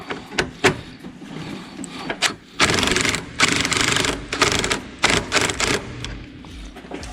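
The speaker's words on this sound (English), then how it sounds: "I've got the battery clamp slid over the battery. I'll just tighten it back up." A battery clamp being tightened on a 1964 Ford Thunderbird, heard as close, irregular bursts of metallic ratcheting clicks with short pauses and a few longer runs of rapid clatter.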